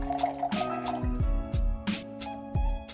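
Lemon juice is poured into a jigger for a gin cocktail, producing a run of small glugging, dripping splashes in an uneven rhythm, close and fairly quiet.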